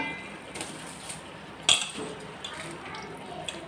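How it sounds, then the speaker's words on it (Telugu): Soaked rice pours into a pot for prawn dum pulav, a soft wet rush with a sharp metallic clink of a utensil partway through, while someone talks faintly. "ఆ బియ్యం కూడా వేసేసుకుందాం."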